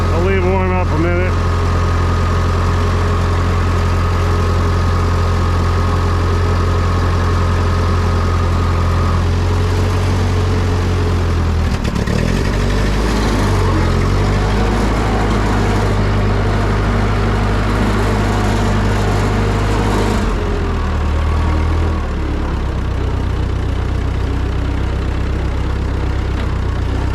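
An old Ford 2N or 9N tractor engine idles steadily while warming up, a loud, continuous low-pitched rumble with a slight dip in revs partway through, running alone throughout.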